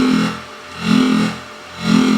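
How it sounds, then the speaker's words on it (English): A synthesizer sine wave with a dubstep-style wobble gives a loud, buzzy, distorted tone that swells and dips in a slow repeating "yoi" pulse, about three cycles, with no talk. "I'll give you an example of a sine wave, what it sounds like with this dubstep like yoi sound."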